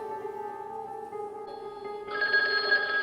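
An old public telephone in Caracas rings with a steady electronic tone that grows brighter and louder toward the end, heard alone without voices.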